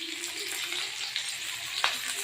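Tempering spices crackle and fry in hot oil, a dense continuous sizzle with scattered small pops and a brief sharper spit near the end, heard up close without talk.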